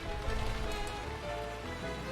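Rain falls outside in the Umineko When They Cry visual novel game, a steady patter of drops on surfaces that hisses softly and evenly, fairly quiet and without speech.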